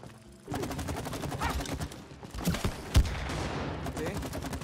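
Rapid bursts of gunfire ring out at a shooting range in the video game It Takes Two, dense and fairly loud, with a sharper crack near the end and voices faintly underneath.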